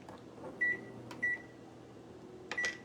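A microwave oven's keypad beeps three times as its timer is set, short bright tones with a clunk between them, close by in a quiet kitchen.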